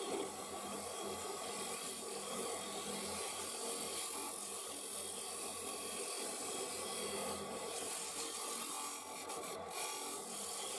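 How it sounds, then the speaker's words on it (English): Steady scraping and rasping of a woodturning finishing tool flattening the bottom of a spalted ash bowl on a lathe, continuous and fairly quiet, with no pauses or voices. "coming in with the finisher just to flatten off the bottom of that mortise"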